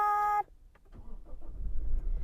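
A 2021 Toyota Fortuner Legender 2.4 diesel, started with the push button, cranks briefly after a short chime and catches, settling into a low, rising idle rumble heard up close inside the cab.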